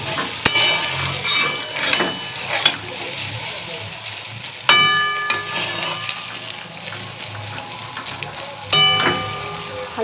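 Chow mein with salt sizzles steadily in a pan as it fries, with sharp metallic clinks and scrapes of a utensil stirring at intervals.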